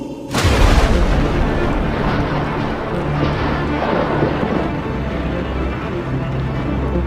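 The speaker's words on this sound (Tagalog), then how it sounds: "Dagundong." A sudden loud crack of thunder gives way to a long, deep rumble that slowly fades, with a steady wash of rain underneath.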